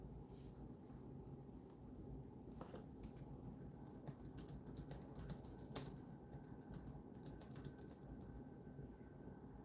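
Faint, scattered clicks of a computer keyboard being typed on, quick irregular taps in short bursts over a soft background hum, with no one talking.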